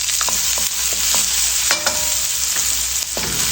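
A head of garlic and two onions sizzle loudly and continuously in hot oil, a dense, hissing fry close up, broken by a few faint clinks of a stirring utensil; no voices.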